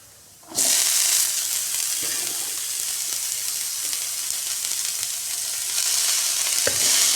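Steamed banana flower hits a hot pan and starts sautéing, a sudden loud sizzle that settles into a steady frying hiss with light stirring clinks near the end.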